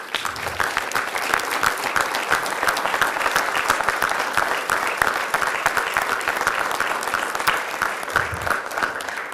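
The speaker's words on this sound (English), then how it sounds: "we'll just give you a round of applause for" Steady, loud applause fills a county board of supervisors meeting as the audience honours standing social workers, many hands clapping in a continuous, even roar for over nine seconds.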